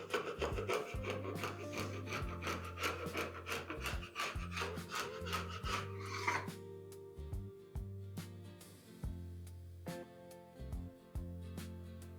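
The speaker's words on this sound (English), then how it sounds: "let's sand down the bottom and then we can cut our circle out" A power sander works across the bottom of a cheap store-lumber tabletop, its loud rasping whir cutting in and out in repeated bursts with short pauses between passes, close and alone without talk.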